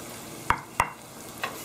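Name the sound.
stirring fresh herbs frying in ghee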